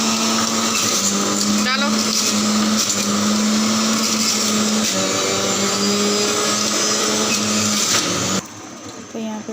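Electric juicer whirring steadily as it blends apple and sweet lime juice in a home kitchen, a loud continuous motor drone with a short voice over it, cutting off near the end.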